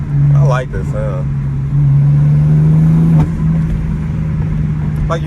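A straight-piped BMW M4 holds a loud, buzzy exhaust drone from inside the cabin, and the revs rise briefly before easing off. A voice talks over it near the start.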